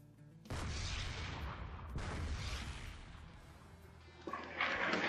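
Frag grenades explode in a military video game. Two heavy booms land about a second and a half apart, each trailing a long rumbling decay, and a sharper burst follows near the end.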